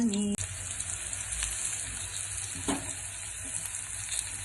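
Sliced raw banana fries in oil on a dosa pan with a steady, soft sizzle, joined by a few light scrapes and clicks of utensils.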